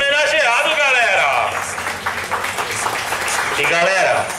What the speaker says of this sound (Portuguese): Uma salva de palmas pro nosso homenageado